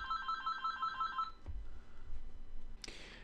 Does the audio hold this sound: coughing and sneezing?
no